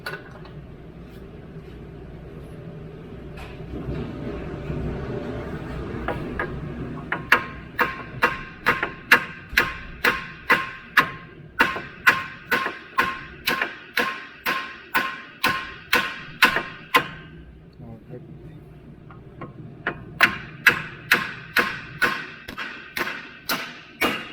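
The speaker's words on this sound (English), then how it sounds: "lightly hammer it." Steady, rhythmic metallic hammer taps, dozens of evenly spaced blows on a 2011-2016 Hyundai Elantra control arm, close and fairly loud, with a brief pause before they resume.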